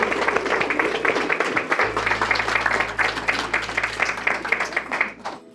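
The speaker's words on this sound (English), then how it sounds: "I think they deserve a round of applause." Wedding guests at an autumn ceremony in a manor applaud the couple, a steady wash of dense clapping throughout with a low hum underneath, fading out at the end.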